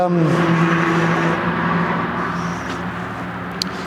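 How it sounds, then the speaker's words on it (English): A loud, noisy big truck drives past nearby in a rural area, a steady engine roar with low harmonic drone that fades slightly as it moves off. "oh, noisy truck"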